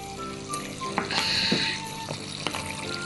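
Water runs out in a splashing trickle with some tonal gurgles and a few knocks, fairly quiet and close.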